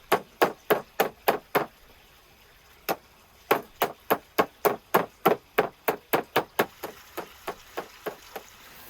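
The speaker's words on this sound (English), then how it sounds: "So I cut the fat in slices and use a wooden hammer to make it transparent." Repeated sharp thuds of a wooden hammer pounding sliced chicken fat on a board while cooking outdoors, about twenty close, evenly spaced blows in two bursts with a brief pause, the last strikes slightly softer.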